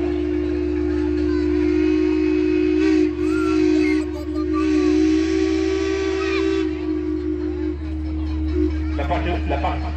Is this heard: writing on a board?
no